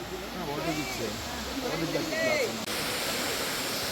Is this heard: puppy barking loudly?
no